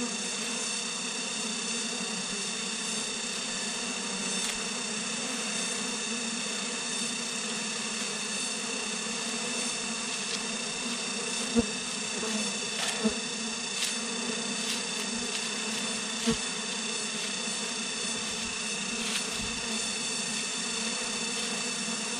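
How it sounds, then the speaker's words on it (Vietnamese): Dense swarm of wild bees buzzing in a forest, a continuous loud droning hum with steady tone throughout, occasional faint clicks and knocks, no talking. "Rất là nhiều con ong mà tìm căng lắm"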